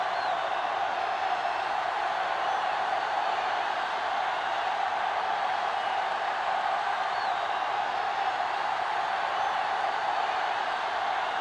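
A stadium crowd roars at the season-opening kickoff in the football video game Madden NFL 2005, Raiders against Steelers, a dense, unbroken wash of cheering held at steady loudness throughout.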